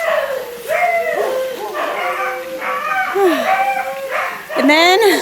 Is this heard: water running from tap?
no